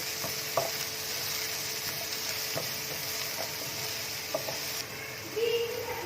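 Finely chopped green chillies stir-fry in a pan for chicken Manchurian, with a continuous sizzle and occasional scrapes and knocks from a spatula. A louder clatter comes near the end, and no one speaks.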